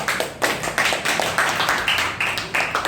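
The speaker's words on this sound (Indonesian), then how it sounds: "Oh iya, tepuk tangan." Classroom clapping during an Islamic history lesson: irregular bursts of hand claps from a group of students, uneven and close, repeating in clusters throughout.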